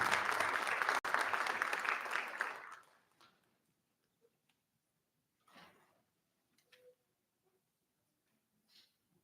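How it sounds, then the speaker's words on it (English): A school board meeting audience applauds a Teacher of the Month award; dense, steady clapping fills the room for about three seconds, then stops abruptly, leaving near silence broken by a few faint shuffles and knocks. "Another round of applause for Ms. Esposito."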